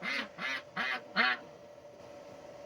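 Ducks quack four times in a regular series, fairly close and moderately loud, with a fifth quack starting at the very end over quiet background.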